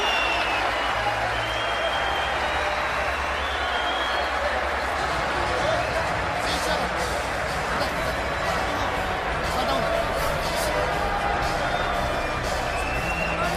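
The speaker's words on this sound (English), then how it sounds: "Crowd roars." Boxing arena crowd roaring and applauding late in a fight, a loud continuous wash of cheers and clapping with voices talking over it.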